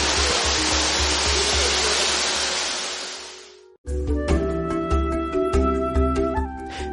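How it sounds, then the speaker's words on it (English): A gushing waterfall pouring as a curtain in front of a man-made cave in Uganda, a loud, dense, steady roar that cuts off abruptly partway, followed by layered sustained tones. "sit silently in the shadow of the gushing waterfalls"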